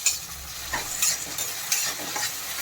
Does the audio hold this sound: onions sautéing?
yes